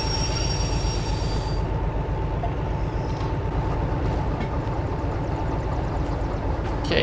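A DH4 locomotive in the Derail Valley video game backs slowly toward DE2 cars, a loud steady engine drone with a high wheel squeal fading out after the first couple of seconds, then a continuous rolling rumble.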